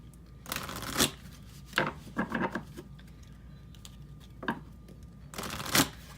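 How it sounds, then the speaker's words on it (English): Tarot cards are shuffled in quick riffling bursts with quiet pauses between them, close and fairly soft. "get these shuffled real fast"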